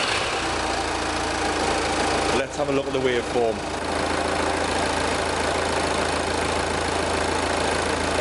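A diesel engine idling under test with a pressure sensor fitted, a loud steady rumble with a knocking pulse running the whole time, while someone speaks briefly over it.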